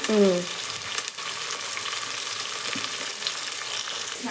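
Onion, green chillies and tomato sizzle in a pan, a steady hiss with occasional stirring clatter and a brief tonal sound at the start, close and moderately loud.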